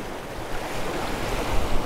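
Steady wind roaring across an open shore, mixed with the broad wash of surf, constant and fairly loud with no voices.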